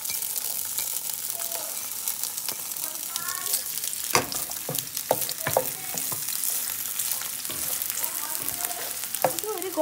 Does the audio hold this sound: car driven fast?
no